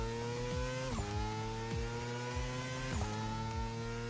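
A motorcycle in The Crew Motorfest revs hard with a high, buzzy whine, climbs in pitch, shifts gear twice with a sharp drop, then climbs again, loud and steady the whole time.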